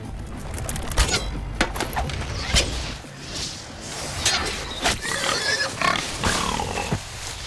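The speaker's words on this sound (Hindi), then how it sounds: "सुअर कितना बड़ा है?" A large pig grunts repeatedly with rough, close snorts, mixed with clattering movement and horse-like whinnies in a dramatic scene from the Indian epic film Baahubali 2.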